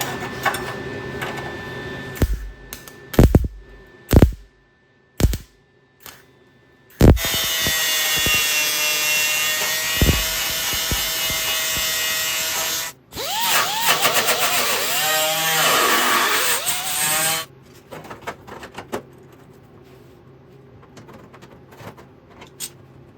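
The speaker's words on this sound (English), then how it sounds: "now I can grind it outside smooth and make a round edge just like here" A grinder smooths the edge of a steel inner fender repair panel on a 1966 Triumph GT6, a loud close whine in two long sustained passes after a few short taps, then quiet.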